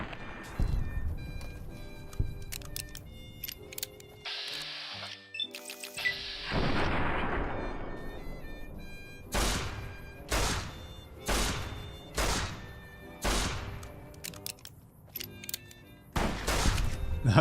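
Gunfire in the video game Fallout: New Vegas, Old World Blues add-on: a series of loud, sharp shots in irregular bursts, with a crashing impact and a sweeping boom partway through, up close and mostly free of talk.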